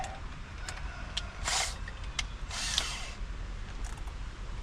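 A power drill bores a bolt hole while junkyard power brakes are fitted to a 1948 Pontiac, short bursts of whirring and ratcheting with a couple of louder passes, no talking.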